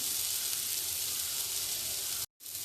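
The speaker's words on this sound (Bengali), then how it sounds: "আবার সুন্দর করে একটু নাড়িয়ে নেব।" Ground spices with kasuri methi frying in a pan for Bengali-style rajma curry give a steady, close, continuous sizzling hiss that cuts out briefly near the end.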